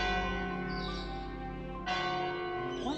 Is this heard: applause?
no